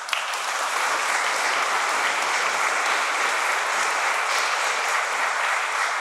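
A church congregation applauds steadily through a Sunday Mass welcome, a dense, continuous wash of clapping at even loudness with no break from start to finish.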